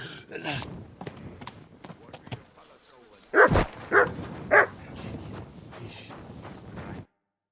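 A horse in the medieval video game Kingdom Come: Deliverance 2 clip-clops in a few loud, distinct hoof thuds over a busy background, with people talking nearby.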